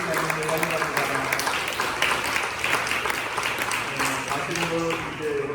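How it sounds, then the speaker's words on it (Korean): A church congregation at a Sunday service claps steadily to welcome returning members, a dense, even round of applause lasting the whole stretch. "박수로 우리 한번 환영하겠습니다"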